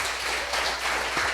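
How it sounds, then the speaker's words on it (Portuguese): A church congregation applauding during a live worship service, a steady wash of many hands clapping at moderate volume with no voices over it. "Aplauda ao Senhor."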